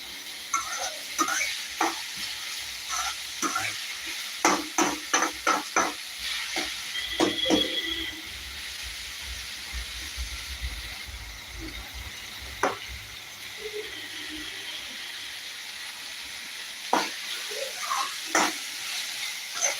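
Onion and ginger frying in a pan for a chicken spring roll filling, a continuous sizzle broken by repeated sharp scrapes and taps of a spatula as the mixture is stirred, with quieter stretches between bursts.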